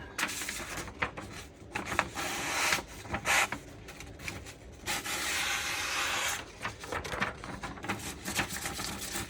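Paper rubbed across a Norton Crystolon double-sided oilstone to spread oil, giving steady close scratchy rubbing strokes in repeated bursts with brief pauses, no talking.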